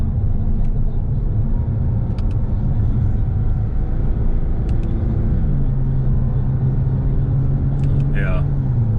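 A Porsche with a ZF automatic transmission, filled with 75w90 gear oil, drives on a road. It sends a loud, constant low engine and road rumble through the cabin, with a subtle shift in pitch near the end as people talk.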